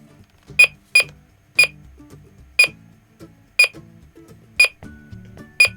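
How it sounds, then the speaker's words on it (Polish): A Guardian I alarm system arming with a series of sharp electronic beeps, about one per second, with soft clicks and low rumbling between them. "I teraz zobaczmy, zazbrajamy alarm."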